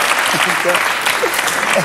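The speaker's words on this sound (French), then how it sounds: "On applaudit costard de star, Laurent Baffy" Steady applause from a television studio audience, continuous and fairly loud throughout, with a few voices calling out over the clapping.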